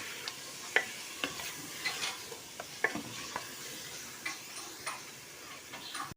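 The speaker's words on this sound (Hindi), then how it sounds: "अब ये डाल के हम अच्छी तरह से इसकी करेंगे अपनी भुनाई" Chicken handi spices of turmeric, chili powder, coriander powder and nigella seeds being stirred and roasted in a pot, with repeated scraping ticks from a spoon over a soft, steady sizzle, close and fairly quiet.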